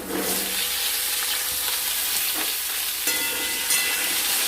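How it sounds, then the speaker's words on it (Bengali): Pointed gourds (potol) fry in oil in a wok, a loud, dense, continuous sizzle with occasional utensil scrapes and crackles close by. "এবার কড়াইয়ের ওই তেলে আমরা পটলগুলো ভেজে নেব"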